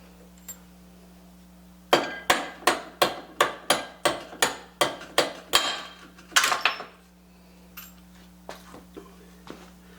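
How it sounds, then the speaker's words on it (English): About a dozen sharp metallic hammer strikes ring out in a steady rhythm, close by, knocking the locking pin out of a limited-slip differential using an old drill bit as a punch, then a few quieter taps follow. "knock this pin out of here"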